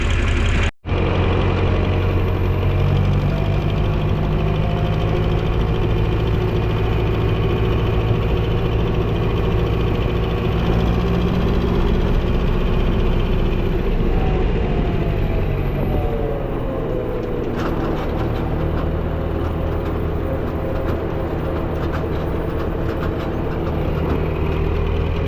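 Vehicle engines, farm machinery, idle steadily in cold weather as they warm up. A loud, continuous low rumble with a constant drone fills the whole stretch, with no talking.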